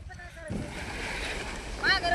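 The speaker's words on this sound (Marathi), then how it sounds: "वाऱ्यामुळं कसं फडफड फडफड करतंय सगळं" Gusty wind buffets the microphone as loose sheeting flutters and snaps in a field during groundnut winnowing, with brief voices speaking nearby.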